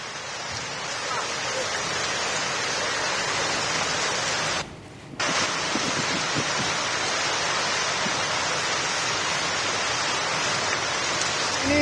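A swift, swollen flood river rushes past at a crossing where a rubber boat is tied with rope, a loud continuous roar that briefly dips and then resumes at full strength.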